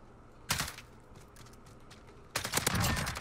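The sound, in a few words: gunfire in video game Call of Duty Modern Warfare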